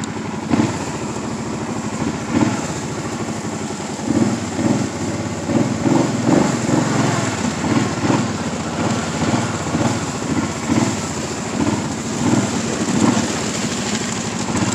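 A Kawasaki Brute Force ATV ridden at night in the cold: its engine rumbles and revs loudly and close, rising and falling in uneven pulses throughout.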